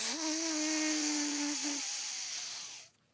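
A voice imitates a buck deer's grunt, snort, wheeze, heard as a close droning tone followed by a long, breathy hissing wheeze that cuts off abruptly.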